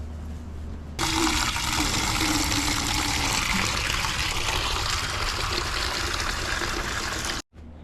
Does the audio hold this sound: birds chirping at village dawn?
no